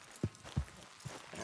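Horses trotting in the video game Red Dead Redemption 2: three soft, evenly spaced hoof thuds over a low, steady background hum.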